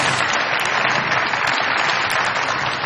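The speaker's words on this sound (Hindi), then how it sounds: "बहुत सारी तालियां बजाइए" Studio audience applause on a television comedy show, a thick continuous burst of clapping from many people, close and steady for a few seconds.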